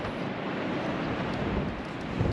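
Strong wind blows across open countryside in the Canary Islands, a steady broadband rush buffeting the microphone without pause, with no voices present.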